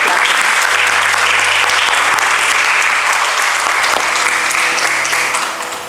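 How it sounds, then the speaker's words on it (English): A large audience at a book reading session in a women's university hall gives a loud, sustained round of applause that carries steadily for about six seconds before starting to fade. "So we should encourage her by giving a big, huge round of applause."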